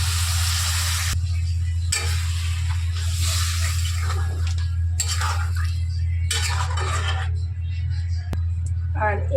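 Water poured into fried, dried-out spice paste in a pan for an egg and capsicum curry, bursts of loud sizzling and hissing come and go over a constant low hum, with clinks of a utensil near the end.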